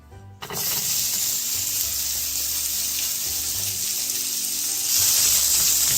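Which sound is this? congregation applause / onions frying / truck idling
onions frying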